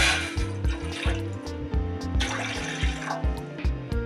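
Water is poured into a cooking pot on a stove for boiling macaroni, a steady splashing gush close by with rhythmic music underneath.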